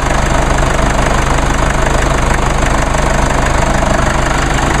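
Close, loud and steady running of a 2.1 liter four-cylinder diesel twin-turbo engine, a continuous clattering diesel idle with no change in speed and no talking.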